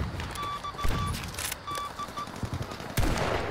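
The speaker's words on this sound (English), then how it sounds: "there's someone like with a fucking stationary gun or something shooting at me" A stationary machine gun fires in Battlefield 5 gameplay, with rapid clattering bursts of automatic fire and sharp tonal gunshot cracks. A louder blast lands near the end. The firing sounds close and fills the whole stretch.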